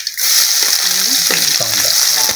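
Garlic and curry leaves fry in hot oil in a pan, giving a loud, continuous sizzle close up, with a few brief stirring scrapes and a faint voice underneath.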